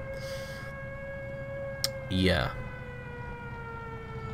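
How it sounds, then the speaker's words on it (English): Air raid sirens wail in the War Thunder video game, a steady faint siren tone running throughout with a brief sweeping burst midway, while someone speaks briefly over it. "Oh, crap, there's the sirens."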